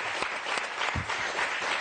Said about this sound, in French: Tout le monde applaudit Nathalie Dessay, invitée de Gérard.